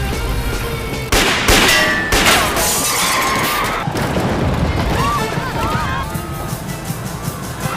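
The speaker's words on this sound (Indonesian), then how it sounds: "namun hal itu berhasil dihentikan oleh pelaku lainnya dengan menembak Sam dari atas sepedanya" Gunshots and crashing impacts in a police action film, a few sharp loud bangs early on, followed by clattering debris and effects, with narration running over the top.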